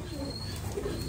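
A fantail pigeon gives soft, low coos close by, a faint murmuring call over quiet background noise.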